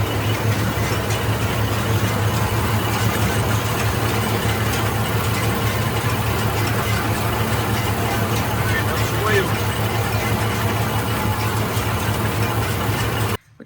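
Tractor engine idling steadily after a bearing replacement, a close, continuous low rumble with mechanical rattle that runs unbroken and loud before cutting off at the very end.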